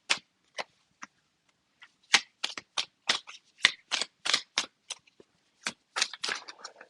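A deck of tarot cards is shuffled loosely by hand, making a string of crisp, dry riffles and flicks in uneven bursts against a silent background, close and fairly soft.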